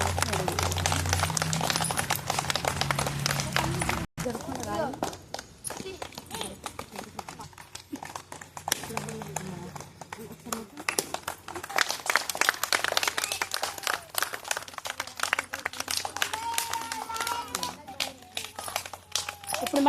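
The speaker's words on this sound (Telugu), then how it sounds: "ఫస్ట్ ఒకసారి అందరూ బిగ్ గా క్లాప్స్ కొట్టండి" Schoolchildren clap loudly and continuously at an Independence Day celebration, a dense patter of many hands that runs throughout, with voices talking over the crowd.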